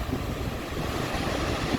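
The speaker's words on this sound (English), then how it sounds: "It's the biggest waterfall on the AT, and it is massive." Laurel Falls, a large waterfall on the Appalachian Trail, pours as a loud, steady rushing roar, close and unbroken, with no voices over it.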